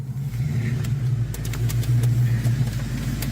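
A 5.0 V8 car engine idling up close, a steady low rumble with slight lopey pulses and brief light clicks over it, continuous and fairly loud.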